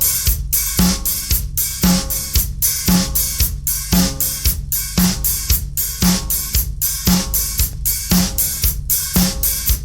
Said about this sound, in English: add just an 8th note ride pattern on the hi-hat and 2 and 4 on the snare with our left hand